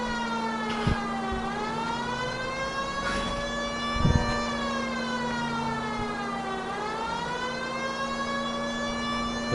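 A police car siren in LA Noire, a loud wailing tone rising and falling in slow sweeps over a steady engine hum, with a few thumps from the street, no talk.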